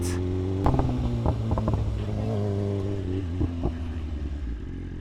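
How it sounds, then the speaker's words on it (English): A motorcycle, likely a BMW, idles and revs while its exhaust crackles and pops in sharp bursts over a steady engine drone, loud and close. "Listen to those pops. Those pops are so hot!"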